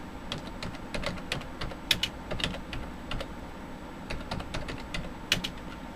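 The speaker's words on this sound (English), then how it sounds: "Now type in select partition 1." Keys clack on a computer keyboard in a quiet room, a steady run of light, irregular taps with a few louder strikes, no voices.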